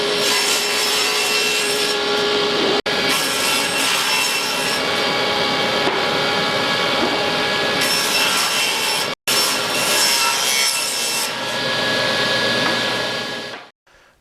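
A saw cuts a 4x8 sheet of plywood into pieces for wooden storage boxes, a loud, continuous, close grinding roar that stops twice briefly and then cuts out near the end, with no talking.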